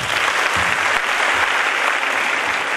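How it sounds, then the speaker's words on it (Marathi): An audience at a school orchestra programme claps after a devotional abhang, a dense, even burst of applause that fills the short stretch without a break. "तर मग हो जाऊ द्या या अभंगासाठी एकदा टाळ्या."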